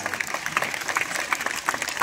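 An audience claps at a live Hindi comedy poetry recital, with a brief burst of scattered hand claps of moderate loudness and no voice over it.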